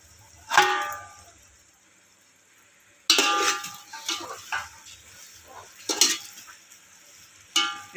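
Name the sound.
stirring prawn biryani mixture in a pot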